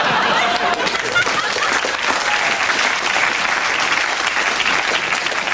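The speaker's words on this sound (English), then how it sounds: "What is that, applause, or are you breaking up? No, it's applause." Loud, sustained applause from a large studio audience, steady and dense throughout with no pause.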